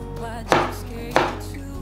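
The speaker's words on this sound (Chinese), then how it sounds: "把小黄瓜切成小丁状" A kitchen knife chops cucumber into small dice on a cutting board, two crisp, close chopping knocks spaced about half a second apart with quiet in between.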